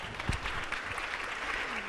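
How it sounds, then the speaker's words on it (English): An audience gives a round of applause for California's First Partner Jennifer Siebel Newsom: steady, somewhat distant clapping at a modest level throughout the short stretch. "Give her a big round of applause."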